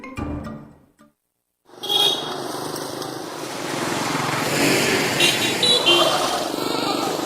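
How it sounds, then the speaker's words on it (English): Busy street traffic in Phnom Penh, Cambodia: a dense, continuous wash of car and motorbike engines with occasional horn toots, loud and close, rising after a brief silence and running on steadily. "Phnom Penh, the bustling, noisy capital of Cambodia"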